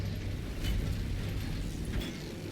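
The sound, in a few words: generator charging in video game Warhammer 40K Space Marine 2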